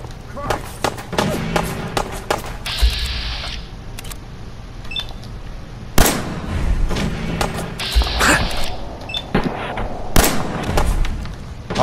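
Sharp Fallout 4 gunshots crack in scattered bursts, with thuds and clicks mixed in, loud and close throughout.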